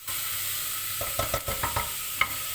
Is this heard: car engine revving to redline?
no